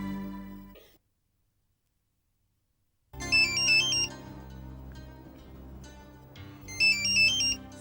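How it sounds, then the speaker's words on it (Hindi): A phone ringtone plays a bright repeating melodic tune, stopping after a short silence and then starting again, cycling through its chiming pattern. "शायद आपका फोन बज रहा है।"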